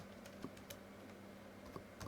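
Quiet clicking of computer keys in a Pop OS Linux terminal, a few separate taps spread across two seconds over a steady low hum, with no voices.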